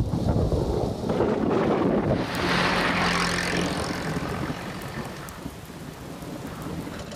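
A cartoon thunderstorm: a loud, rolling thunder rumble over heavy rain in the first seconds, easing into a steady, dense rainfall hiss that continues to the end.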